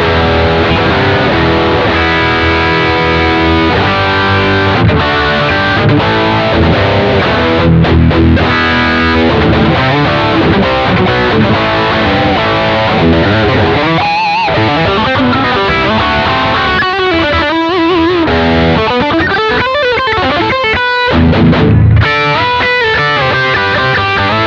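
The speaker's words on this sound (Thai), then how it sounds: "ก็มีใช้เสียงแตกและบางท่อนก็จะมีเปิดเอฟเฟคดีเลย์ควบค" A loud, heavily distorted PRS SE Paul's Guitar electric guitar plays chords and runs, with delay-effect echoing repeats trailing the notes throughout.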